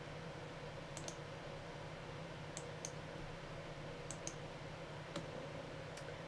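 Faint, sparse computer mouse clicks, arriving singly and in quick pairs at irregular intervals over a steady low electrical hum, while the MalwareBytes installer is downloaded and run.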